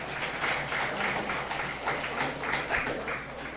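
Church congregation applauding after an infant baptism during an Easter worship service, a steady wash of clapping that holds evenly throughout with a faint murmur beneath.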